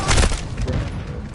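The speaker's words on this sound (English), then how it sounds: "Hostile cruise missile incoming." A cruise missile strike in Call of Duty MW2 lands as a single loud, close boom with a heavy thud that rolls off into a fading rumble and scattered debris.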